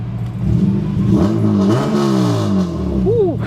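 A Honda Civic FD with a naturally aspirated K24A engine and 6-speed manual revs up sharply twice, the pitch climbing and falling close by, with a brief blip at the end.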